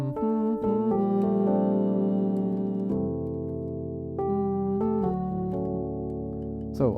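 A Nord electric piano plays a mellow riff, with sustained jazz chords and a short repeated melodic motif over them, clear and close with no talk.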